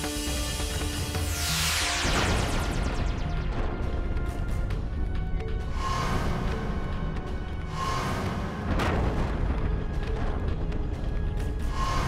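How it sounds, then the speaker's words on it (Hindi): A loud explosion effect in a mythological drama scene, with a sweeping crash followed by several rumbling bursts and rolling booms that keep up a dense, heavy roar for the whole stretch. "ये विस्फोट कैसा?"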